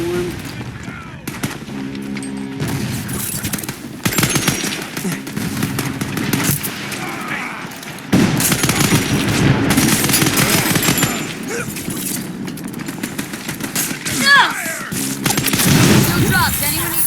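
Gunfire from the Scavengers video game: bursts of rapid automatic shots and single cracks fill the whole stretch, with brief pauses, loud and close, mixed with game effects and occasional voices.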